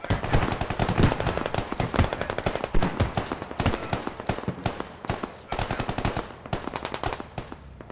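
Heavy gunfire from a BMP armored vehicle in the military shooter Squad during a Russian assault: dense, rapid bursts of automatic fire that keep coming for several seconds, loud and close, with no talking.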